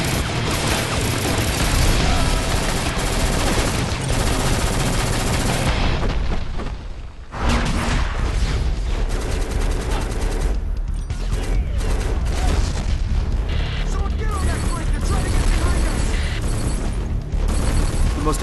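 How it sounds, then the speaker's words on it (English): Uzi fire and explosions in the video game Black form a dense, continuous wall of shooting and booming blasts, with a brief dip partway through before the barrage resumes at full loudness. "walls will crumble as you spray a room with your Uzi"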